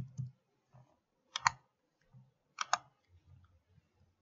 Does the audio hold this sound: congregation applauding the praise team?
no